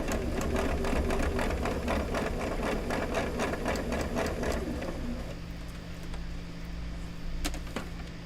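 Sewing machine stitching quilt pieces, a close, rapid mechanical rattle that runs steadily for about five seconds before stopping, leaving a low motor hum and a couple of faint clicks.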